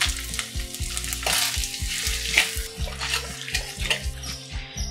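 Jaggery being stirred into black rice payasam in a pot, a busy close bubbling and wet sloshing with recurring tonal clinks, fairly loud and steady, no speech.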